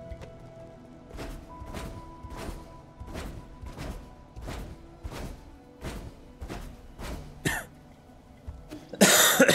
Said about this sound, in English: apologies for all the coughing